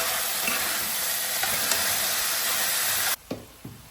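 Onions sauté in a pan with a steady, close hissing sizzle that cuts off abruptly near the end, followed by a couple of faint knocks.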